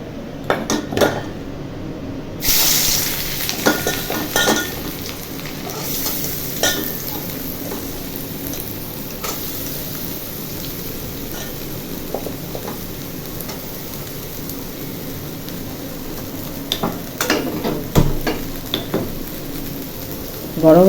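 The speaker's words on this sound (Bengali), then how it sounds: "এই যে পেঁয়াজ কুচিটা দিয়ে দিলাম" Chopped onion hits very hot oil before loitta fish goes in, giving a steady frying hiss under frequent clinks and clatters of utensils against the pan.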